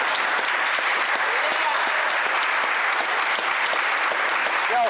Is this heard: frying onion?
no